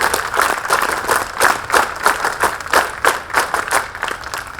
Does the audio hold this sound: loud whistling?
no